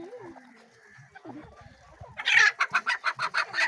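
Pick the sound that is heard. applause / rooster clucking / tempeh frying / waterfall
rooster clucking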